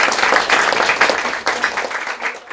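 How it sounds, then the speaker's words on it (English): Audience applause at a science café talk: a steady, dense patter of many hands clapping together in a room, sustained and fairly loud throughout with no voices over it. "the science crowd never applauds until the end"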